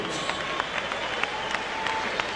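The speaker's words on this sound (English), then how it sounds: "they both deserve a round of applause" Arena crowd applauds boxers after a 12-round fight, a steady roar of clapping and cheering at even loudness throughout.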